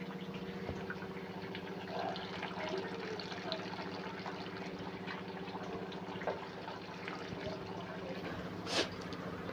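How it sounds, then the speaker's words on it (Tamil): Tamarind water pours steadily into a boiling fish curry, a soft continuous trickle and splash with a faint bubbling beneath, close and quiet, with no voices. "இப்போ நம்ம வந்து புளி ஊற்றிக்கலாம்."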